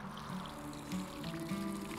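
Water trickles from a farmyard pipe into a flower bed, a soft, steady dribble with a faint low hum behind it.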